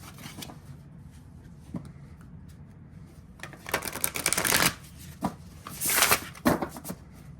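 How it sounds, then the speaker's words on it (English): A deck of playing cards being shuffled up close, with soft riffling at first building to two loud, dense riffle bursts and a few sharp snaps and taps in between, in an otherwise quiet room. "That is a beautiful shuffle."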